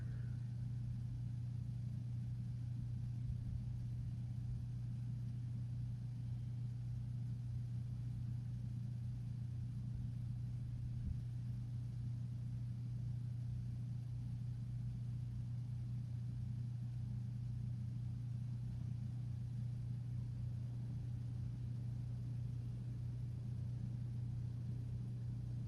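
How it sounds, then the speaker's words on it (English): Tow car engines roar somewhere behind a racetrack, a steady low, distant rumble that holds without pause for the whole stretch, with no voices over it. "Well, Elmer, I hear engines roaring back there. It must be the tow cars"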